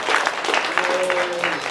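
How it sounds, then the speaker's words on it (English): Applause from a convention panel audience at a fan convention seminar, a brief burst of clapping with cheering voices mixed in, fairly loud and close throughout. "Let me hear a round of applause for Mo."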